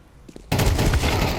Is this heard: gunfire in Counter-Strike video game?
yes